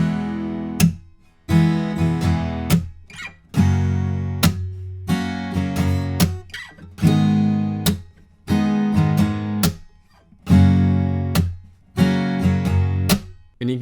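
Acoustic guitar strumming a simple repeating chord progression with percussive palm slaps, steady rhythmic bars separated by brief muted gaps, close and loud with no voice.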